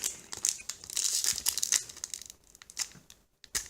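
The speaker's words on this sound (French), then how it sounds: "donc les 12 derniers boosters de la display. Donc c'est parti, on va commencer à les ouvrir" Yu-Gi-Oh booster packs being torn open, crisp foil crinkling and ripping up close in busy bursts, pausing briefly near the end before another crackle, with no talking.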